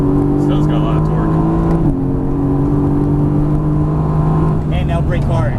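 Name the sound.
Mercedes AMG GT S accelerating on race track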